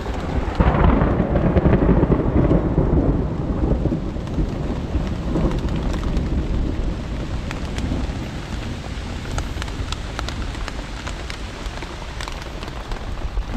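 Thunder rolls over steady rain in a forest, heard from inside a renovated old shelter, a deep continuous rumble that fades slowly beneath dense, unbroken rainfall and light wind.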